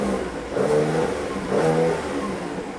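A Mercedes C43 AMG engine revs twice in quick succession, a throaty mid-pitched surge rising and falling, heard up close with no voices.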